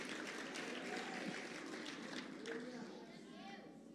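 A church congregation claps and cheers in a broad, sustained wash of applause mixed with voices and chatter, easing off slightly toward the end.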